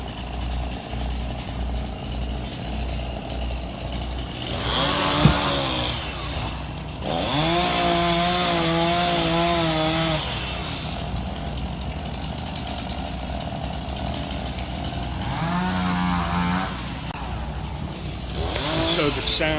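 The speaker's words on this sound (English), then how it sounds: "the sound of chainsaws in the morning after the hurricane is a good thing" Chainsaws cut wood in the morning after Hurricane Irma, engines rising and falling in several long revving bursts, fairly close and loud over constant outdoor noise.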